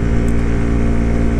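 Motorcycle engine carrying a rider and passenger on a ride toward Tinjure, Nepal: a loud, steady, close droning hum with a constant rumbling tone throughout, no pauses or speech.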